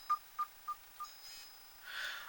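Phone keypad button tones while a phone is being switched off: four short, evenly spaced electronic beeps close by, followed by a faint soft hiss, with no speech.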